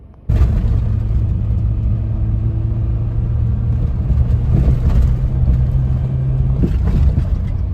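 A Mitsubishi Pajero Mini driven fast along a dirt road gives a steady, loud engine and road rumble with a low hum throughout, broken by a few rougher bumps and no talking.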